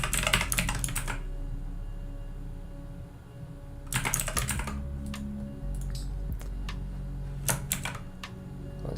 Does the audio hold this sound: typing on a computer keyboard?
yes